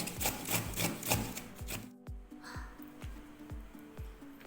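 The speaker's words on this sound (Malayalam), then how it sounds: "അങ്ങനെ നമ്മുടെ ബീട്രൂട്ടൊക്കെ ചെറുതായിട്ട് ചോപ്പ് ചെയ്തെടുത്തിട്ടുണ്ട്" Beetroot chopped in a hand-pull chopper for Sadya-style beetroot pachadi, a run of quick rhythmic chopping clatter followed by slower spaced rattling pulls with whirring bumps, close and fairly quiet, no speech.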